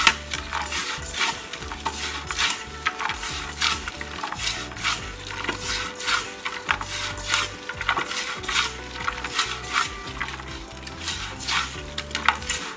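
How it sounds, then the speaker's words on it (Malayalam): Sliced onions mixed and rubbed with salt by hand in a bowl, a continuous close squelching and rustling with irregular crunches and light knocks against the container, no talk. "നന്നായിട്ട് മിക്സ് ചെയ്ത് തിരുമ്പി എടുക്കാം"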